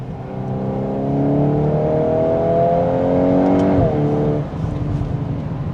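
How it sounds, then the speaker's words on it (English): Volkswagen Golf R with all-wheel drive, dual-clutch gearbox and stock exhaust, driven hard in race mode; a steady engine drone rises in pitch under load, then drops with a brief gurgle as the revs fall. "You hear a little bit of like gurgles through the stock exhaust."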